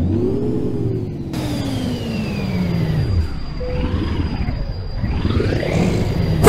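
A truck engine in Euro Truck Simulator 2 revs and whirs, the pitch sweeping up and down through gear changes, loud and close, alone without talk.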